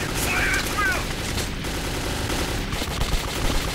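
Gunfire in Metro 2033: a loud, close, rapid burst of shots at the start that trails off into rough rattling noise, with a few scattered reports later.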